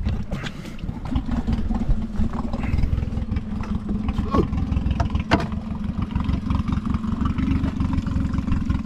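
A small fishing boat's outboard engine runs steadily at a low idle close by, a rough continuous putter with slight rises in revs and no speech over it.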